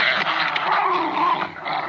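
Dogs in a radio drama snarl and growl as they fight, a close, loud tangle of rough growls with a few yelps and whimpers, no speech over it.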